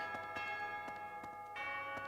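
A monastery bell rings in the video game Fire Emblem Three Houses, a sustained bright metallic tone with a series of soft, evenly spaced strikes, fairly faint and heard alone.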